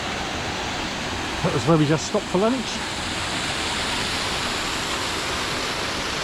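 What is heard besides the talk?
waterfall by a pond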